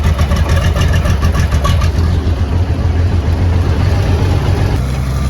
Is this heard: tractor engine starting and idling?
yes